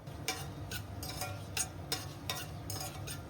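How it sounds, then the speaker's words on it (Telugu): Whole biryani spices (cinnamon, pepper, shahi jeera, cloves, cardamom, bay leaves) frying in ghee and oil for gonguura chicken pulao, a soft steady sizzle broken by a series of regular scraping stirs of a spoon in the pan. "బిర్యానీ స్పైసెస్ లైట్ గా ఫ్రై అయ్యాయి."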